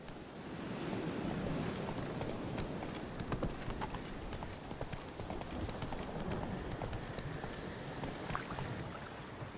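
Roach the horse galloping through Witcher 3 gameplay, a steady rhythmic hoof clatter running throughout at moderate loudness over a wash of ambient background noise.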